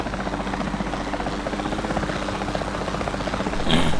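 A capture team helicopter in the video game Jurassic World Evolution 2 gives a steady, close rotor thrum with a buzzing chop throughout, swelling slightly louder near the end.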